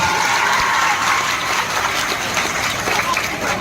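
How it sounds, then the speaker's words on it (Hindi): Students in a Hindi-language coaching class applaud, a dense, steady wash of clapping filling the room throughout, close and loud with no break. "सबसे पहले जितने लोग खड़े हैं उन सारे बॉयज के लिए तालियां बजाइए"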